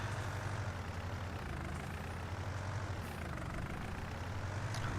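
A Case tractor's diesel engine in Farming Simulator 19 idles with a steady low rumble, holding constant and moderately loud throughout with no talking.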